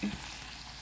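Wilted lettuce dressing simmering and cooking down in a pan, a steady soft sizzle that stays even and low for under a second with no voices.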